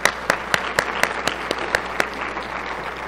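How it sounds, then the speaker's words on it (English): Scattered clapping from a conference audience: a few loud, distinct claps stand out in a loose, uneven rhythm over a soft bed of lighter applause that thins out toward the end. "Please give them a round of applause for all the support they give us."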